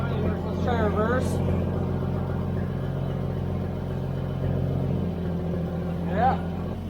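A Toyota FJ40 Land Cruiser with a loose brake drum rumbles steadily in reverse gear, a continuous low engine and drivetrain drone with brief higher whines over it, loud and close throughout.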